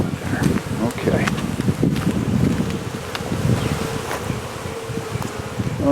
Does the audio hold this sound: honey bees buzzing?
yes